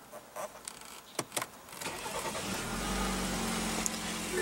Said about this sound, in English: And what you're hearing there is BMW's 2-liter twin turbo inline